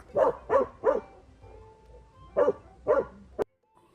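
A dog barks three times in quick succession, pauses, then barks twice more before the sound cuts off abruptly; moderately close.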